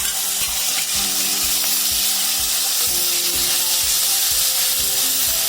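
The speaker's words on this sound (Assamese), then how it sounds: "আৰু আমি মিছা মাছখিনি ফ্ৰাই কৰি ল'ম প্ৰথমে।" Small misa fish frying in hot oil sizzle and crackle loudly and steadily, with a faint rhythmic scraping of stirring underneath.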